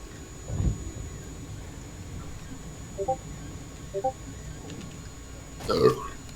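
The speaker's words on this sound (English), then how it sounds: "Good old beer burps." A low beer burp sounds near the start and another rougher one near the end, fairly faint over quiet room noise, with a few small clicks in between.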